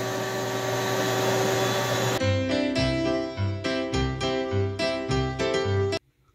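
A vacuum cleaner runs steadily with a loud whine in a woodworking shop, then pulses in a series of surging bursts as it sucks up debris before cutting off abruptly.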